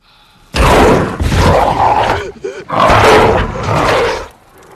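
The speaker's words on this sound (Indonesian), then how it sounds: "Tiba-tiba ia diserang oleh seekor serigala tanpa ada yang mengetahuinya." A wolf attacks in a snowy Alaskan wilderness film, with loud, close snarling roars in two long bursts split by a brief gap of growling.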